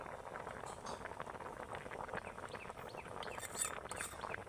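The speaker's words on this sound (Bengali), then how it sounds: "এবার আমি পিঠেগুলোকে ভালো করে দুধের সাথে ফুটিয়ে নেব" Gokul pitha simmer in milk, a quiet continuous bubbling and popping at a gentle rolling boil, close and soft, with no talking.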